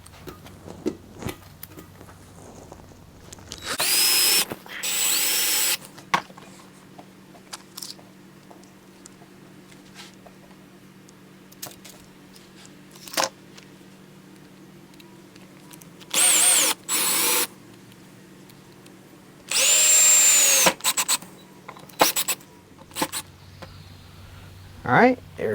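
Power drill driving a couple of screws into a lazy Susan base for an oak and resin lazy Susan, several short whirring bursts of a few seconds each, close and loud, separated by quiet handling noises, with a person talking.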